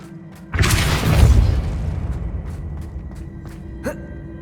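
A Depulso force spell goes off in the video game Hogwarts Legacy as a sudden booming whoosh that swells and slowly fades, followed by a small pop.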